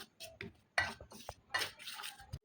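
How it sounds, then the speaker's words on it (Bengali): A spoon scrapes and clinks in a bowl while mixing cornflour with chilli powder and cumin powder, a series of short, close, irregular taps and scrapes, without voices. "ভালো করে চামচ দিয়ে মিশিয়ে নিতে হবে।"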